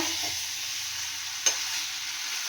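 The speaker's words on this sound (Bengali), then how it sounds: "এবারে আমি এর মধ্যে সিদ্ধ করা আলুগুলোকে দেব। আমি এটাকে ভালো করে এর সাথে কষাবো।" Boiled potatoes being sautéed in hot oil in a pan, giving a steady close sizzle with one sharp scrape of a spatula midway and no talk.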